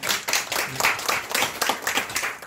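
A church congregation claps to welcome a visiting guest during a service, a brisk burst of many hands applauding close by, steady for a couple of seconds before thinning out.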